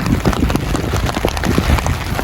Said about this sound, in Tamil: இப்போ மழை பெய்துட்டு